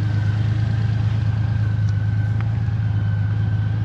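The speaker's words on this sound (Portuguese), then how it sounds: "E a moto ficou a trabalhar." A motorcycle engine idles close by, a low constant rumble with a faint high whine, running evenly throughout without pauses.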